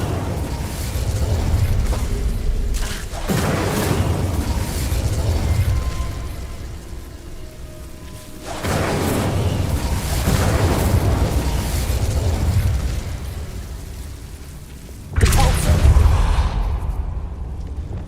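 Incendio fire spell cast in Hogwarts Legacy, loud explosive bursts with whooshing roars, three main blasts spaced several seconds apart, with no talking.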